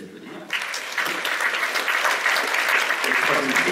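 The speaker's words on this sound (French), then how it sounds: "Je vous demande aussi de les applaudir." An audience in a cinema hall at a French short-film festival screening applauds the jury, with sustained dense clapping that swells in after a quiet half-second and holds steady.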